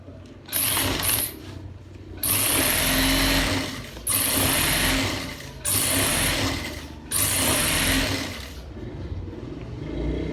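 A sewing machine stitching a gents shirt collar runs in four rapid, whirring bursts separated by short pauses, close and fairly loud with no talk.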